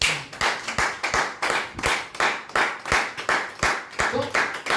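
A church congregation at a sermon claps in a steady rhythmic beat, sharp, loud, close handclaps repeating about twice a second, with a faint voice showing briefly near the end.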